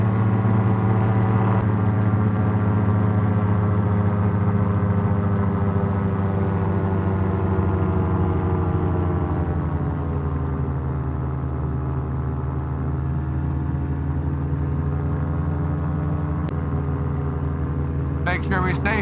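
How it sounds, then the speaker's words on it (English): A model airplane engine drones steadily in flight at reduced RPM, a loud continuous harmonic hum with slight pitch drift, close and constant throughout with no other sounds over it. "So the plane's a little faster than what I thought it was because I've been running it at a reduced RPM."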